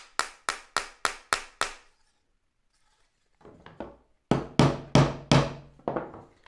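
Wooden dowels tapped into snug holes while dry-assembling a wooden instant box camera: a quick run of six sharp knocks, a pause with faint rattling, then a louder, heavier set of taps up close.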